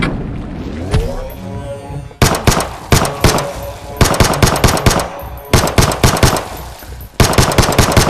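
Pistol gunfire in a VR shooter game, heard as loud, sharp shots fired in rapid clusters with brief gaps between them, close up and with no voice over them.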